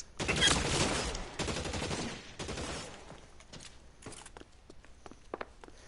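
Rapid Tommy gun bursts in L.A. Noire, a dense rattling volley at the start that thins into scattered single shots and clatter, fairly close and loud.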